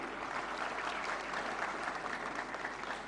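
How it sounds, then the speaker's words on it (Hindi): A large crowd at a national film award ceremony gives loud, sustained applause, an even wash of clapping with no talk over it. "इनकी सिनेमाई कलात्मकता के लिए जोरदार तालियां।"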